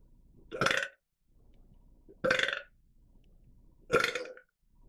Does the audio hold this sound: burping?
yes